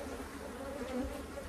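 A steady swarm-like hum of honey bees rises from an open hive being worked by a beekeeper, constant and close, with no speech.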